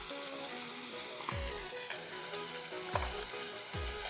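A light Bengali fish curry with tangra fish, potato and tomato, seasoned with salt and turmeric, sizzles in the pan as it is stirred. A constant frying hiss runs underneath, with a few soft scrapes of the spoon and a faint tonal hum.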